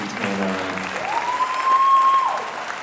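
An audience at a Heritage High School fall choir concert applauds in a dense burst of clapping that stays steady and close, with a faint whistle-like tone rising through it.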